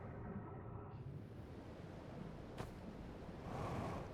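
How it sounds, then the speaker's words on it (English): Murky underwater movement in the Outer Wilds game, a steady low rumbling wash with a brief whoosh partway through and a fuller surge near the end, no voices. "Going through the murky water again."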